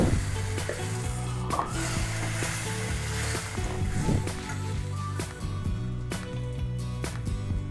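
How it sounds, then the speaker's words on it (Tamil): Mashed potatoes and green peas dropped into a sizzling tempering for a chapati side curry, producing a loud, continuous frying hiss with a few soft plops and scraping stirs, close up and without talking. "உடச்சி வச்சுருக்கிற உருளைக்கிழங்கையும் பட்டாணி மிக்ஸை வந்து இப்போ கொட்டிடலாம்"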